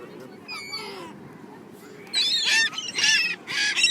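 Seagulls call loudly in bursts at a beach while being fed, sharp repeated cries rising over steady wind and surf, with quieter calls earlier and people talking nearby.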